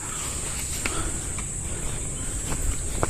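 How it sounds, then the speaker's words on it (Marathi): A steady high-pitched drone of crickets fills a quiet forest on Dronagiri Fort near Panvel, constant and continuous, with a few faint rustles underneath. "किर्र असा हा जंगलाचा भाग आहे आणि फक्त रातकिड्यांचा आवाज येतोय"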